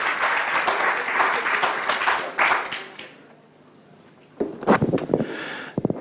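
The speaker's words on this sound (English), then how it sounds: "Another round of applause." An audience at a live ActionAid event claps for a few seconds, then falls quiet; after a pause, a few closer, louder claps and sounds break in near the end.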